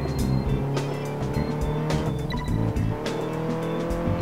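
A Ferrari racing in Test Drive Unlimited 2, its engine roaring steadily and loudly while the tires squeal through turns, with no talking over it.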